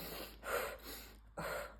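Shallow, high chest breathing demonstrated up close: quick, soft airy inhales and exhales in a quiet room.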